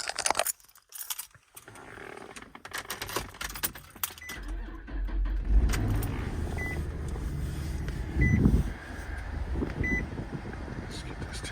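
Cold start of a 2003 Nissan Pathfinder LE parked under a carport: a key jingle and chime beeps, then the engine cranks and settles into a steady idle with a brief rev, heard up close.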